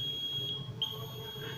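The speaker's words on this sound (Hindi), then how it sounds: "अब ये जैसे ही मैं इस एलुमिनियम फॉयल के किसी भी जगह पे रखूँगा तो इसमें से बज़र की आवाज़ आ रही है" An electronic buzzer wired into a circuit sounds as current passes through aluminum foil, giving a steady, shrill, high-pitched tone that holds nearly unbroken throughout, with a faint low hum beneath.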